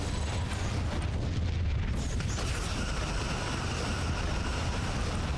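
A Borg vessel blows apart during a Star Trek Legacy space battle, a broad, roaring explosion that swells and rumbles steadily over a dense, loud, continuous wash of engine and weapon noise.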